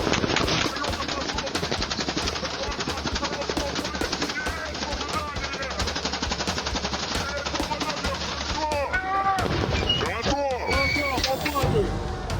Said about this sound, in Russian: Серега, есть патроны еще?